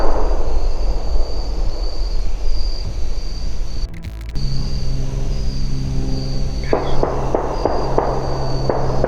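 Several sharp distant cracks, about 20 gunshots from roughly 800 yards away in Missouri woods, pop in a loose series over a steady outdoor hum of insects, faint and echoing.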